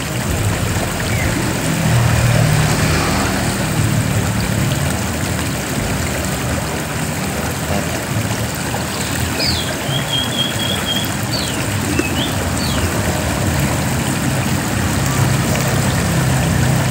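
Flowing stream water at a fishing spot, a continuous broadband rush of moderate loudness, with faint bird chirps and a distant engine-like hum mixed in.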